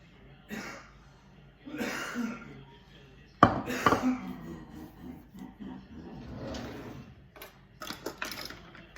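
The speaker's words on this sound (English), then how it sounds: "Hear my husband coughing?" A man coughs several times in rough bursts, fairly close, amid quieter rustling and kitchen noises.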